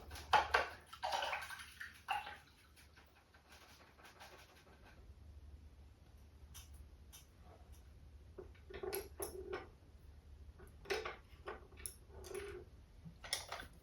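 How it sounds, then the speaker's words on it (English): A paintbrush is rinsed in a water cup during an acrylic painting session, giving soft intermittent swishing and light clinking against the container, close and fairly quiet, in short bursts with pauses between. "I'm going to rinse my brush out."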